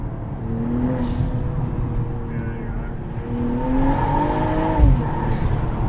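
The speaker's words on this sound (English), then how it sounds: "You can hear the air actually being sucked in the car." A 2022 BMW G42 M240i fitted with an Eventuri intake revs hard, its loud, close engine note climbing and falling in pitch, with the turbo and intake rushing beneath it and a low thump near the end.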